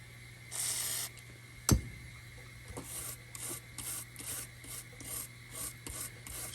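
Scrubbing solder flux residue from a circuit board gives repeated short rasping strokes, close and fairly quiet, with one sharp knock partway through.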